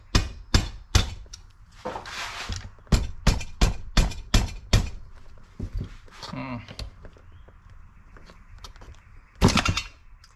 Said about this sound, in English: hit it with a soft hammer.